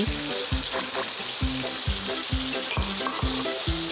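Minced pork and bamboo shoots sizzle loudly in a hot pan while a utensil scrapes and tosses them in a steady rhythm of stirring strokes.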